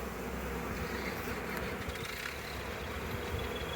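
Steady, dense insect buzzing fills the clip, a continuous drone of many honey bees close by during a spring hive inspection with honey frames, with no voices.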